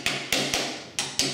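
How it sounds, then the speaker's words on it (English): A hammer taps a tilt and turn window's bottom corner hinge into the Euro groove, five sharp, close knocks at an uneven pace, each ringing briefly before fading. "And sometimes you'll need a hammer"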